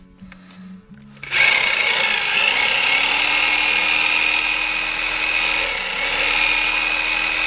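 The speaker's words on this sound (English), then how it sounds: "Get in here with the air hammer. I'm gonna hit it just a little more." After a short quiet start, an air hammer working a Jeep bushing kicks in as a loud, steady, buzzing pneumatic rattle that runs on without a break.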